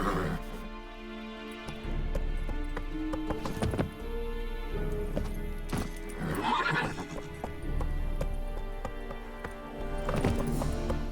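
Roach, a horse in The Witcher 3, gallops with steady clip-clop hoofbeats and an occasional whinny, close and loud over a game soundscape of ambient music and effects.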